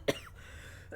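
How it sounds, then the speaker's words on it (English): A single short, sharp cough near the start, followed by quiet room tone and a fainter throat sound at the end. "Because I was coughing."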